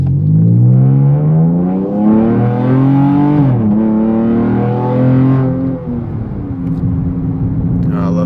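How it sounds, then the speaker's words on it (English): A 2012 Dodge Charger SXT 3.6L V6 with Magnaflow exhaust revs hard, pitch climbing and dropping in throaty sweeps, then settling into a deep, rumbling idle. "For you guys who like a loud exhaust, it's for you. It gets loud."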